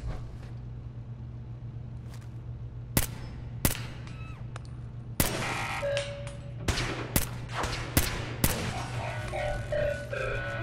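Gunfire in Fallout 4, a series of sharp shots and short bursts, some close and loud and some fainter, over a steady low hum with metallic clanks between them.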